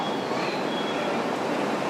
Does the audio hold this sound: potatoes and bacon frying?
no